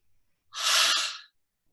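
A single breathy, open-mouthed exhale, close and brief, in otherwise near silence.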